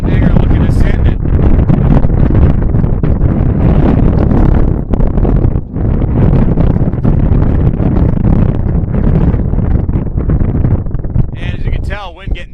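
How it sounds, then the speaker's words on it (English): Heavy wind buffets an open microphone on an uncovered outdoor platform at a men's soccer game between UMW and Bowdoin. The loud rumbling gusts continue almost without a break, with a faint muffled voice beneath. "wind getting picked up again"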